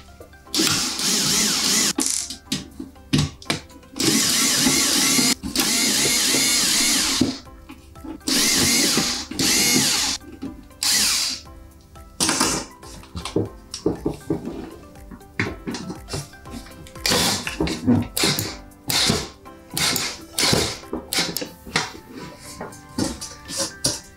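A cordless power drill backs screws out of the housing of an electric pizza oven, a thermal-fuse-modded Spice Caliente or G3 Ferrari type, in repeated loud whirring bursts of a few seconds each with short gaps, ending in choppier brief spins.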